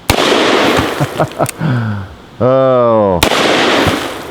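A Colt open top revolver fires one sharp, loud shot at the very start, and another shot cracks near the end; between them a voice speaks and a sustained tonal sound rings out.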